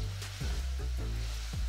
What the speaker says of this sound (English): We want to, at this point, cook the glaze onto the shrimp.